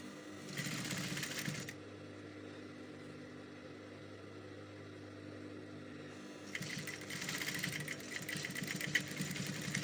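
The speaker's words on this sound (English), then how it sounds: "I'm just going to stitch it a little bit." A sewing machine runs in two bursts while stitching a seam in ankara fabric for a flared dress, a steady mechanical whir with a quieter low hum in between.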